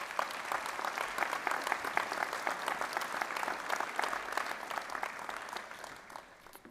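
Sustained applause from a large commencement audience at the Carnegie Institute welcomes a speaker, dense steady clapping throughout that fades slightly at the end.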